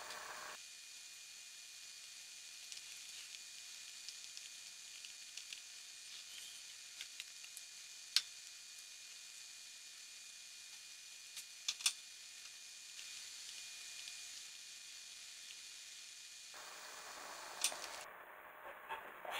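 Vermicelli (semai) fries in a pan for dudh semai, a faint, steady hiss of sizzling with a few brief clicks of stirring and a short clatter near the end.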